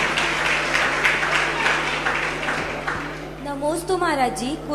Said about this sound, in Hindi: हम सभी ताली बजाकर उन सभी की अनुमोदना करते हैं